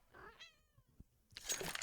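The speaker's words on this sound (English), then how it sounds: "My cat, I don't know if you heard her through the mic, wanted to say hello." A domestic cat meows twice close to a headset microphone, a short tonal mew followed by a brighter, louder cry after a brief pause, over faint gaming background noise.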